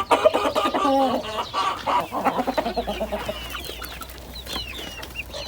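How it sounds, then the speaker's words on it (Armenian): A rooster calls close by among grazing hens, a rapid run of loud throaty clucks that tapers off, with fainter bird chirps afterward. "կանչում աքլորը, այ սենց աքլորը հսկում այ"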